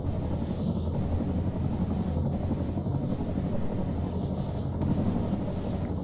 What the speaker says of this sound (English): bring the choppers around, get ready to push across and hold